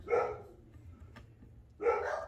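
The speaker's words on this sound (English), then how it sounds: "You know it's not a good day if you don't hear the dogs barking at least once." Dogs bark in two short bursts, one at the start and another near the end, with a faint click between and a quiet room underneath.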